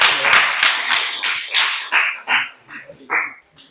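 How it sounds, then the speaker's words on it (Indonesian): A class group applauds in a classroom after a group presentation: a dense burst of hand clapping that thins into scattered, uneven claps before fading out. "Ya, berikan aplaus."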